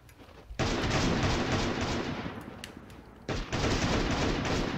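Sustained rattling gunfire in the Last Day on Earth survival game, dense bursts from a distance filling the clip with brief gaps, no talking.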